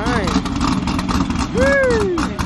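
A cammed car engine idles with a loping, uneven rumble, close by, while a whistling whine sweeps across it.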